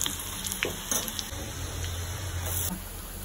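Onion and capsicum frying in a pan, a steady close sizzle with faint stirring clatter, no talking.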